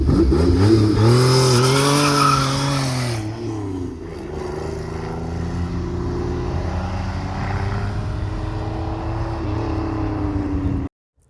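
A supercharged 3.8 V6 engine swapped into a Pontiac Fiero revs loudly, its pitch rising and falling, then settles into a steady, throaty running note before cutting off abruptly.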